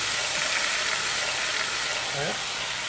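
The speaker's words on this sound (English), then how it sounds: "it's time to add the vegetables" Carrots and onions tipped into a sizzling one-pot Korean chicken dish, giving a loud, continuous frying hiss with steam that fills the whole clip.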